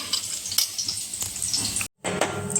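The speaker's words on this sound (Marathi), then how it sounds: "थोडंसं हलवायचं, ह्याला लसूण लाल होऊ द्यायचा जरा।" Garlic frying in a pan for a quick palak bhaji: a steady, close crackling sizzle with soft stirring clinks and scrapes, briefly cutting out for a moment before resuming.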